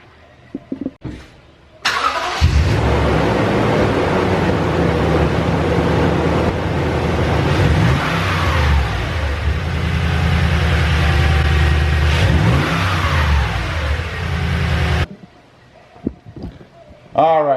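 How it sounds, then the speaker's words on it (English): A Toyota Tundra fitted with a TRD cold air intake idles loudly on a cold start, with a couple of rising revs, while someone speaks just before and after. "there's a couple of cold start revs for you"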